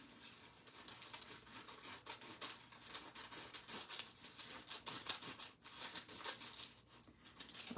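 Paper being cut with scissors for a scrapbook collage, a steady close rasping and rubbing of blades through paper with soft crinkles throughout, no talking.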